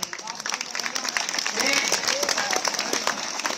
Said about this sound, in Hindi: ओ ताली क्यों बजा रहे हो?